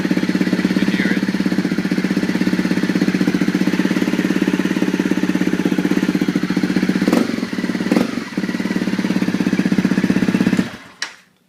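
Modified Honda CRF250L motorcycle with its backfire screen removed idles close by in a loud, even, rapid thumping beat, briefly dipping twice, before cutting off abruptly near the end.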